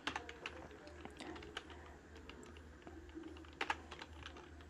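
Python Pygame code is typed on a computer keyboard in quick irregular bursts of soft clicks, close but quiet, over a faint low hum, with no talking.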